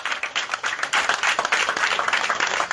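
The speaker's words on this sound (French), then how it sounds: "On peut applaudir pour ça d'abord." Audience applause at a Gabonese gathering, a loud, dense burst of many hands clapping close by that holds steady and sustained, with no voices over it.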